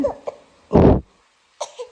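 A child gives a single short, harsh cough up close, with brief small vocal sounds before and after it.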